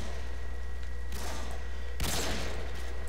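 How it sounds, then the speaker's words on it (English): Gunfire in Call of Duty: Modern Warfare 2 on the Overgrown map, two sharp shot bursts about a second apart over a steady game background hum. "I'm getting shooted at."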